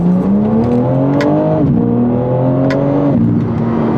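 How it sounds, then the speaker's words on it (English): A 2024 BMW M3 CS engine revs up through the gears, its pitch climbing steadily then dropping at each shift, loud and close from inside the car, with no speech. "You want to hear this thing rev up and take it on a quick drive."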